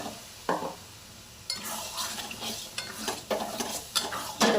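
A spoon stirs fried potatoes in a frying pan for a potato curry, giving repeated scraping strokes with a soft sizzle between them, close up and with no talking.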